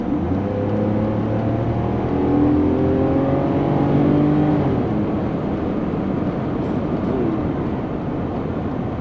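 A Mercedes-Benz R129 SL accelerates with its engine note rising through the gears, loud and near at first, then settling into a steady rushing road drone with no voices.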